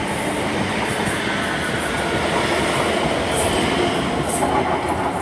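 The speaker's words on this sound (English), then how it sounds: "we're going to have an inter-7 city set that will be on an ECS from Haymarket depot" An InterCity train set running as empty stock from Haymarket depot roars past close by in a steady, loud wash of rail and wheel noise, with faint high squeals on top and no talk.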